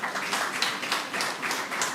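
An audience at a formal public lecture and awards ceremony claps in a steady, even patter of many hands that runs without a break for a couple of seconds.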